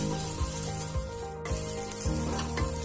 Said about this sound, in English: Add 1 tablespoon of ginger garlic paste and fry well.